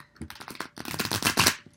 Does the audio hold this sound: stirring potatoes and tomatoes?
no